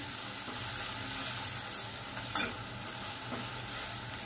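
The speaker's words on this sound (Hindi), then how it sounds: "कांदा लाल होईपर्यंत आपल्याला चांगला परतवून घ्यायचा आहे." Finely chopped onion and tomato stir-fry in a pan with a steady, soft sizzle and faint stirring scrapes, plus one brief clatter midway.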